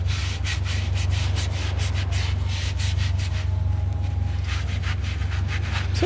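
Car wheels and brake discs are scrubbed with a brush in repeated rhythmic rubbing strokes, close and fairly loud, over a constant low hum.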